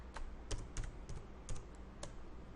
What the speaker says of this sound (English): I'm going to press and hold the Alt key and then type